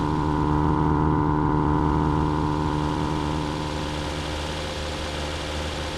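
A synthesized car engine and exhaust sound from the Krotos Igniter plugin idles in a steady, loud, low rumble with a constant tone, easing slightly in level toward the end, with no talk over it.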